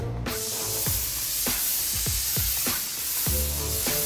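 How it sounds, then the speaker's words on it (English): Paint spray gun blasting onto a car body, a loud continuous hissing spray with rhythmic dips as the gun sweeps left to right, up close. "when you pull the trigger, you pull the first phase air, and you pull it back more, then there's the spray, there's the paint that comes out"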